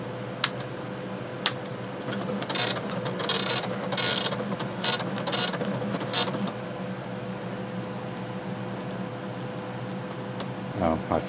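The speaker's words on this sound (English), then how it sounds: "I'll send the output from the screen to the printer and do a list" Commodore MPS-803 dot-matrix printer printing a program listing, with bursts of buzzy, ratcheting print-head passes separated by short pauses over a constant background hum, then clicks as the printing stops.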